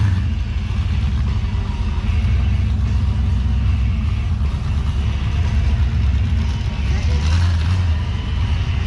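An OBS Ford truck churning through deep mud off-road, its engine rumbling loud and close with low revving throughout, while voices talk over it.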